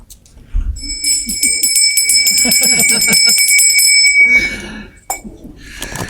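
A bell rings as the last bell at a school, the I LO high school in Rzeszów, sounding as a bright, repeated metallic ringing for several seconds before stopping, followed by brief bursts of crowd noise.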